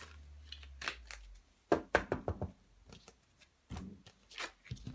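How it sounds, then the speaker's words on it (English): Tarot cards are shuffled by hand at close range, giving soft, quiet papery riffles in a few short bursts separated by brief pauses. "Just shuffle those a bit more."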